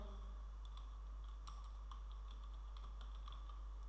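Website code being typed on a computer keyboard: quiet, steady key clicks in short irregular runs, with a low constant hum behind them and no talking.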